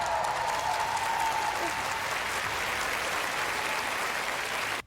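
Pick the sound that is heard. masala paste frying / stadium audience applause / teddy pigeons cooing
stadium audience applause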